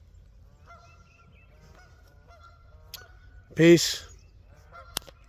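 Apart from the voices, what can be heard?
geese honking on a pond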